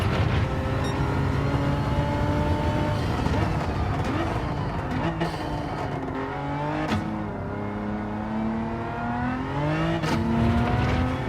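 A Hyundai race car in the racing game Gran Turismo 7 drives hard, its engine droning loud and continuous with rising and falling pitch through gear shifts and corners, filling the whole stretch with no talking over it.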